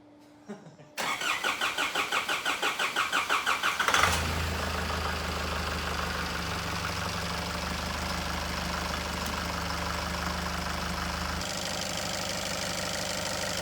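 A Nissan Patrol engine, just reinstalled during a restoration, cranks with a rapid rhythmic starter churn for about three seconds, catches with a loud flare, then settles into a steady, close, even idle that drops slightly in pitch near the end.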